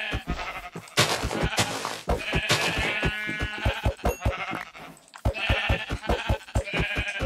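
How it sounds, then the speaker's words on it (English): Minecraft sheep bleat loudly and repeatedly, with rhythmic thumping hits between the calls. "Right now, I'm trying to kill some sheep."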